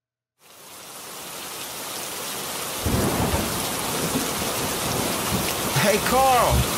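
Steady heavy rain roars throughout, swelling louder partway through as rumbling thunder rolls in beneath it; no talking.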